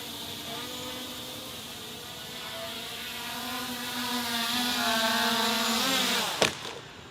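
An F100 brushless camera quadcopter drone flies nearby, its motors whining in a steady buzz that rises and wavers in pitch as it speeds up, ending with a brief bump.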